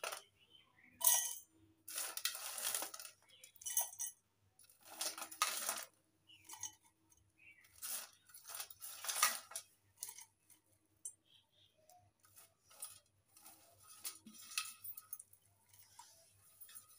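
Crisp sun-dried tomatoes drop into a mixer jar as a series of sharp, light rattling clatters in short bursts with quiet gaps between them, close and fairly faint.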